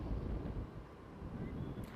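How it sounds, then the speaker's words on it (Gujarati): Strong gusty wind blows across a rough monsoon sea near Diu on the Gujarat coast, a continuous low roaring rush that buffets the microphone for two seconds. "દરિયામાં કરંટ સાથે ભારે પવન પણ ફૂંકાયો"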